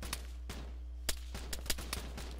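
Gunfire in Arma 3 aimed through a bush on the ground: a string of sharp distant shots in an irregular rhythm, about eight cracks over a steady low engine hum.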